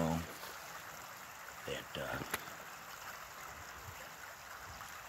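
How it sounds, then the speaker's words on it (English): A creek runs through wooded property during a December squirrel hunt, a faint steady trickle of moving water in the background while someone talks briefly over it. "this creek here runs on through our property here. I've got running water everywhere"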